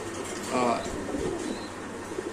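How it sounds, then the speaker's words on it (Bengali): Spanish pigeons give a short, soft coo nearby while someone talks over them. "এখানে আছে স্প্যানিশ কবুতর স্প্যানিশ"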